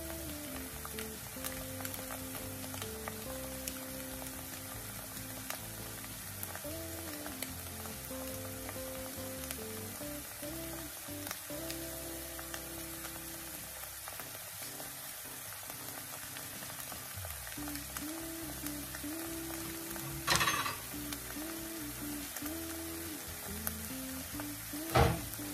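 Khanom krok batter sizzling in a frying pan topped with green onion, a continuous soft crackling fry that holds steady throughout with a couple of faint clinks near the end.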